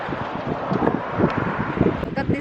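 Strong coastal wind off the ocean in California buffets the microphone with a steady roar, punctuated by low, rumbling gusts that swell and fade across the whole stretch.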